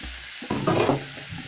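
Garlic sprinkled into a hot pan, a short burst of frying sizzle and stirring that swells after a quiet start and then settles, close and alone.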